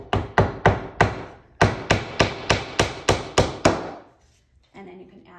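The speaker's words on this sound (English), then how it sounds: "if you're using regular hammer and nails, get those started before you piece it together" A hammer striking a nail into wood while building a wooden sled, in a steady series of about a dozen sharp, loud blows, then a short quiet stretch.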